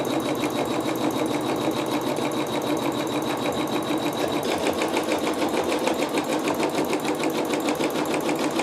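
A sewing machine basting around a quilt block, its steady rapid stitching chatter running loud and close without pause.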